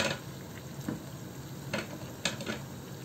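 Fish curry with cauliflower and tomatoes sizzling in a pan while being stirred, a steady frying hiss broken by several scraping stir strokes, close and alone.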